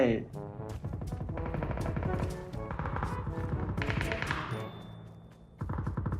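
Rapid bursts of automatic gunfire in the battle royale game PUBG rattle in repeated volleys, loud and close, while players talk over the shooting.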